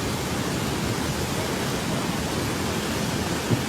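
Flash-flood water rushes through a town in North Cotabato, Philippines, a loud, continuous broadband roar that stays even throughout without voices.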